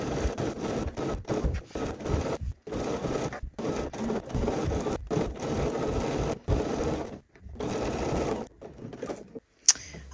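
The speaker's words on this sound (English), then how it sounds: "Sewing close to that fold line on the facing side." A sewing machine stitches fabric close to the fold line on the facing side of a bodice, running in steady bursts separated by brief pauses, loud and near with no talking.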